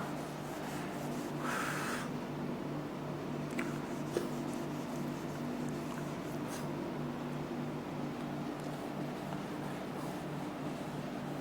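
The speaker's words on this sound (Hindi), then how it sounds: "जो मेन अमाउंट है वो मिटा देता हूं, वो दोबारा लिख लूंगा।" Marker or chalk scratching and rubbing on a classroom board as figures are wiped off and rewritten, a steady low room hum underneath with a few brief squeaks and taps, fairly quiet and without talk.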